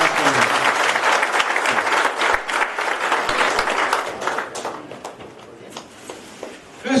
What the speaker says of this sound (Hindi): जोरदार तालियों के साथ में हमारे भाई का स्वागत करें